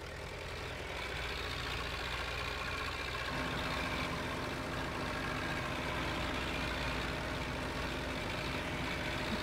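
A tractor in Farming Simulator 15, on a French farm map, runs with a steady, loud diesel drone and a low rumble that holds constant throughout with no pauses.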